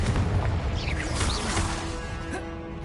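Confringo spell in the Hogwarts Legacy video game set off as a burst of booming, crashing explosions with rumbling debris, loud and dense throughout the short stretch.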